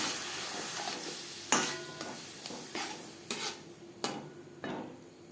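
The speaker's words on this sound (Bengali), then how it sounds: "পেঁয়াজ ভেজে নেওয়ার পর দিয়ে দেবো মশলার পেস্ট" Spice paste of ginger, green chilli, garlic, onion and tomato sizzling with onions in a pan for chicken chow mein, quiet frying broken by repeated scraping stirs of a utensil against the pan.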